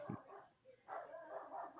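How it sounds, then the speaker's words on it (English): A dog barks indoors, a few faint, muffled yips under a steady hum and a low voice. "I don't know what he's barking about."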